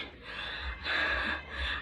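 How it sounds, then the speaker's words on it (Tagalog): A person dressed as a clown for a birthday greeting pants heavily and out of breath. A few loud, close gasping breaths come in quick succession, with no words spoken. "Kaya hinihingal na talaga ako."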